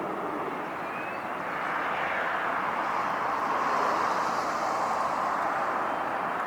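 Jet airliner at LAX throttling up for takeoff, a broad, steady roar that swells slightly and holds at a moderate distance, with no voices over it.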